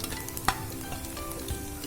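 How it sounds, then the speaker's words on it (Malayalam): Wheat uppumavu with vegetables is stirred in a hot pan, a soft continuous sizzle broken by one sharp scrape of the spoon and lighter scrapes later, with no voices. "ഇത് നന്നായിട്ട് ഇളക്കട്ടോ വെജിറ്റബിളായിട്ട്"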